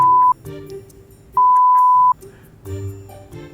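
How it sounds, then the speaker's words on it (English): Two loud, flat censor beeps, a short one then a longer one, cutting through quiet talk. "Why am I being beeped?"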